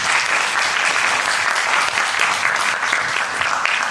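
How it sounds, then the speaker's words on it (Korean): Steady, dense audience applause at a Korean artist's lecture, loud and continuous throughout with no voices over it. "여러분 다시 한번 박수 부탁드립니다"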